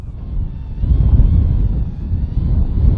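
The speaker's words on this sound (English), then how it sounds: "With the wind picking up to a brutal 20 miles per hour" Strong wind of about 20 miles per hour roars across a mountain wilderness, a steady low buffeting rush against the microphone that swells and eases without pause.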